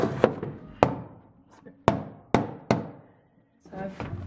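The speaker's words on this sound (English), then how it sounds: "So I've been having to use a hammer to pry apart the backing here" A hammer strikes wooden shelf backing during a library demolition, delivering about six loud, sharp wooden bangs at irregular intervals, each ringing out briefly in a hollow room, with a voice speaking at the very end.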